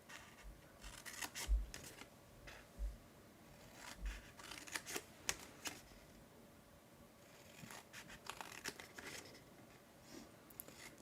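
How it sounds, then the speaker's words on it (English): Scissors snipping along the score lines of crafting paper: a quiet series of short, crisp cuts and paper rustles, close by and faint, spread irregularly throughout with no talking. "we're gonna cut up each of the vertical score lines"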